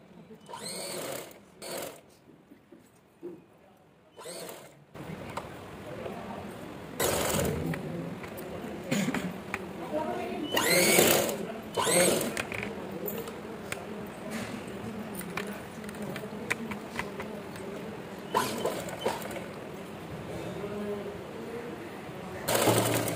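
A sewing machine stitching the lining of a boat neck long frock: rapid mechanical needle chatter in several start-stop runs, close and steady, with someone speaking between and over the stitching.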